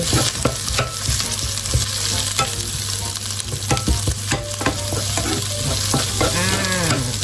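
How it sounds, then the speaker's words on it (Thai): Large onion being stir-fried in a pan, loud continuous sizzling with frequent spatula scrapes and taps against the metal, no talking. "วิกกี้จะผัดหอมหัวใหญ่ให้สุกในระดับหนึ่งนะคะ"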